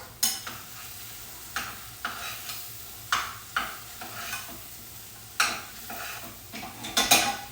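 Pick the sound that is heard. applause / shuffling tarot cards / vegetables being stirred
vegetables being stirred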